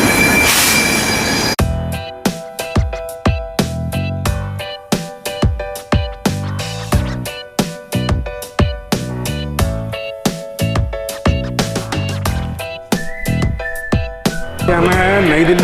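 Sampoorn Kranti express train from Delhi toward Patna running fast, heard from inside a sleeper class coach: rhythmic clattering wheel beats over rail joints, repeating steadily, with bursts of squealing metal tones near and loud.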